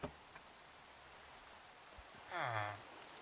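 Steady soft rain in a blocky survival-building game, a faint even hiss running throughout with a brief louder swell near the end and no talking.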